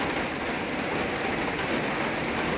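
Steady rain falling in the Lao countryside makes a continuous broadband hiss with soft patter, even and moderately quiet throughout with no voices.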